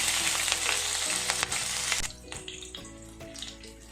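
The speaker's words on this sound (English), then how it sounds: "Now let's add chopped green chilies into this." Chopped green chilies hit hot oil with crackled mustard seeds, setting off a loud, bright sizzle that eases after a couple of seconds into a quieter spitting fry with small pops.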